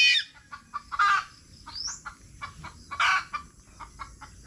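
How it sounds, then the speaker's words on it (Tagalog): Hens cluck and squawk in a yard, several short sharp calls and rapid clucks in an uneven rhythm, close by and fairly clear over a quiet background. "Manok ko talagang gusto itong tirahin."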